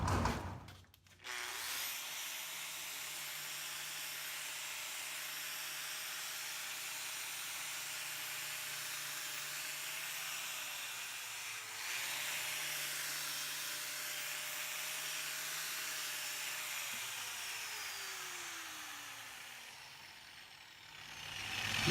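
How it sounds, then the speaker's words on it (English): A wire wheel spins on a 6013 weld in a T joint with a steady whirring whine that sags briefly as it bites into the metal, then winds down near the end. "And we're going to hit it with the wire wheel."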